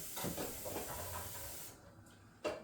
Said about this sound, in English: steam's going there.